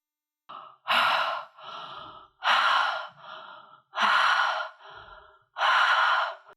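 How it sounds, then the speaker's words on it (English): Quick, forceful breathing cycles up close, each a sharp inhale followed by an audible exhale through the mouth, repeated about four times in a steady rhythm. "it's breathing through the belly and out through the mouth, but quite quick"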